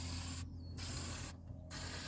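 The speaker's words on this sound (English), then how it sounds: "And then you can go ahead and spray on your primer." A spray can puts plain gray primer onto a car body being treated for rust, giving two broad hissing bursts with short pauses between them and no talking.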